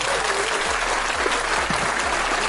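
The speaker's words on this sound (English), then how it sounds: "Let's give Sybilla a round of applause for that" Sustained audience applause fills the room for Sybilla during a 49ers season schedule discussion, a dense, steady wash of many hands clapping at an even loudness from start to finish.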